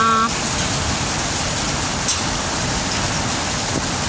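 Steady, dense hiss of rain falling, loud and continuous, with a brief voice at the very start.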